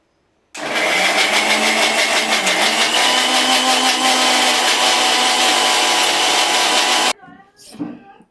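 A mixer grinder blends nuts with a little water, a loud, steady, close whirring motor running for about six and a half seconds before cutting off abruptly, followed by a few faint sounds.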